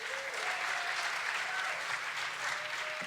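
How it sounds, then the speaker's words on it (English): Theater audience applauding after a live music performance, dense steady clapping filling the room throughout at moderate loudness, with faint voices murmuring underneath. "Give yourselves a round of applause."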